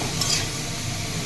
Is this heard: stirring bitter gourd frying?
yes